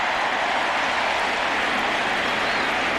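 A large baseball stadium crowd at a 2000 National League Championship Series playoff game roars steadily, a dense, loud, sustained wash of cheering from thousands of fans with no break.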